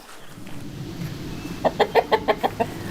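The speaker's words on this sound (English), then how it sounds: "fed my chickens." Backyard chickens cluck in a quick run of about seven loud, evenly spaced calls close by, over a low steady background hum.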